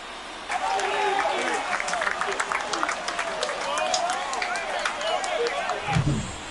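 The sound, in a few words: crowd cheering after home run in baseball video game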